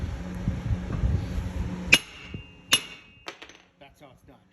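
Two sharp, loud metallic strikes of a big hammer against a 2003 Chevrolet Suburban ball joint ring out close by, followed by a few lighter taps and clinks, with background rumble and shop noise beforehand.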